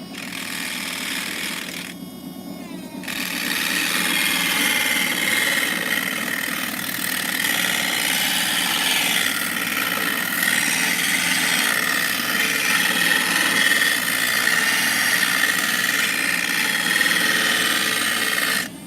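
Cabbing machine grinding wheel shaping quartzite stone on coarse dry grit, a steady continuous abrasive grinding and motor whine that runs close and loud almost throughout, with a brief softer break near the start.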